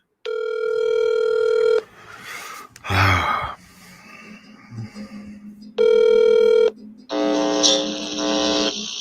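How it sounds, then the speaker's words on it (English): A telephone rings twice in electronic bursts with breathy, muffled noises and a low hum between the rings, then a different electronic tone follows. "Here it is. Phone's ringing."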